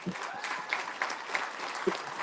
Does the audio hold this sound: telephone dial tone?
no